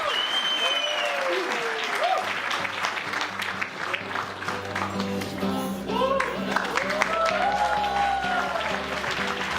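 Wedding reception guests applaud loudly and steadily for the band, with cheers and whoops mixed into the clapping and a voice speaking over it.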